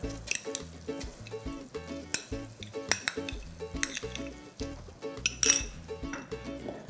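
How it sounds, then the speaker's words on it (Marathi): Grated fresh coconut is stirred with roasted rice in a pan for rice kheer, with a soft sizzle and repeated sharp spoon-on-metal clinks over steady background music. "नारळाचा चव एक दोन मिनटासाठी तांदळासोबत चांगला परतून घेऊ"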